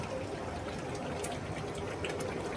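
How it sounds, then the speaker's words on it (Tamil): Water pours into a large pot of chicken biryani, giving a soft, steady gushing splash that stays fairly faint and continuous throughout. "அடுத்து தண்ணி ஊற்றிக்கலாங்க."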